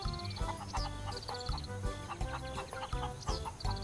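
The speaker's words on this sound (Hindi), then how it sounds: "इसने अपने घर में भी कुछ मुर्गियां पाल रखी थीं" Several backyard hens cluck in repeated bursts, close by and fairly loud, with overlapping calls and no talking.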